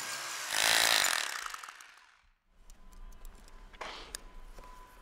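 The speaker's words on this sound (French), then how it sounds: "On perce alors les trous pour les ancres de la coulisse et les ancres sont posées." A power drill bores holes for wall ties into a cavity wall, one loud whining burst that winds down, followed by quieter clicks and handling noises.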